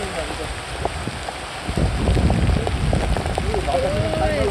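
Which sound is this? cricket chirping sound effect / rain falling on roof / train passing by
rain falling on roof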